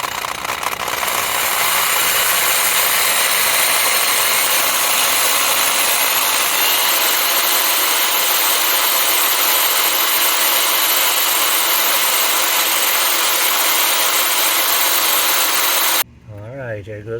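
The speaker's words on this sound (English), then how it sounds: "I'm going to improve my method by drilling a pilot hole with this small one" A power drill bores a small pilot hole into concrete, a loud, continuous grinding whine that holds steady close by for about sixteen seconds before cutting off abruptly, followed by a brief moment of quieter sound.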